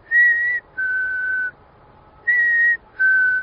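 A person whistles an imitation of a chickadee's spring mating call: four clear, sustained whistled notes in two pairs, each pair a higher tone then a slightly lower one, separated by a pause, with no talking.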